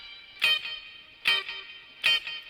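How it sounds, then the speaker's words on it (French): Clean electric guitar soaked in reverb plays the opening of a song: three bright struck chords, evenly spaced, each ringing out into a shimmering tail. "c'est un son clair. Alors j'ai mis pas mal de reverb et sur la première guitare"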